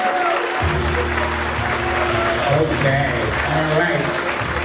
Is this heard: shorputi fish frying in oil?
no